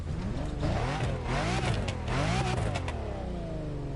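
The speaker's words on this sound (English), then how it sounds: "here's a little sound clip of the car" A car engine in the video game The Crew Motorfest revs up and down repeatedly, the pitch climbing and dropping in a few quick surges, close and loud with a gritty exhaust tone.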